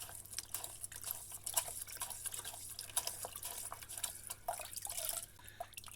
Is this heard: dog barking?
no